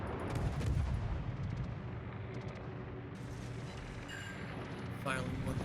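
Naval guns booming in World of Warships, a dense rumble of heavy shots and distant blasts rolling underneath for several seconds, with a sharper burst near the end, fairly muffled overall.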